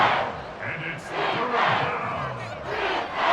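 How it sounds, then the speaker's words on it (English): A roaring video game stadium crowd at an EA Sports Madden football game swells and falls in waves, loud and continuous, with a commentator's voice faintly mixed in. "A big play here as the crowd noise rises."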